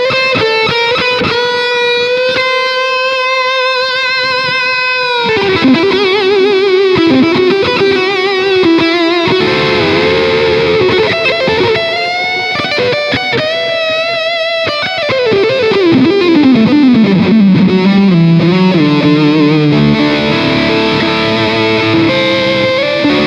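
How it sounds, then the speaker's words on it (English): Electric guitar lead through a Carvin Legacy 3 tube amp on high-gain distortion, sustained singing notes, bends and fast descending runs, loud and close with clear note separation, played alone without talk. "I'll play a bit more lead just to try and demonstrate how clear and well defined each note is"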